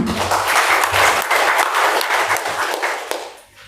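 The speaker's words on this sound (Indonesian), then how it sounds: "Kita beri aplaus yang meriah untuk kita semua." An audience at a district stunting-prevention forum opening in South Konawe gives loud, dense applause that holds steady for about three seconds before fading away.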